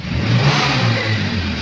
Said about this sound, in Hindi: अब हम लोग इसको चेक करेंगे एक्सेलरेटर लेकर कि कितना जल्दी आइडल पे वापस आना है।